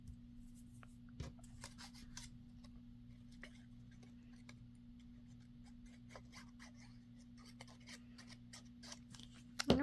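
Scissors snipping lace trim off fabric edges, a steady run of faint, close crisp cuts over a low background hum.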